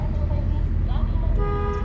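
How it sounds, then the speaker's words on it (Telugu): A car horn sounds once near the end, close and clear, over engine noise and a voice speaking. "హారన్ అప్లై చేయండి"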